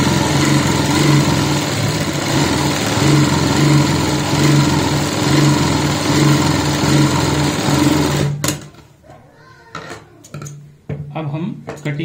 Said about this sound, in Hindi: अब हमें बाहर की साइड ये सिलाई लगानी है, बुकरम के ऊपर लगाएंगे